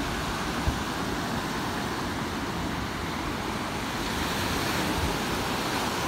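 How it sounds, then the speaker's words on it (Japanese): Sea of Japan waves and surf off the Yamaguchi coast, a loud continuous roar of breaking water and wind wash, dense and steady with a couple of brief thumps. "波に揉まれて遊んでおります"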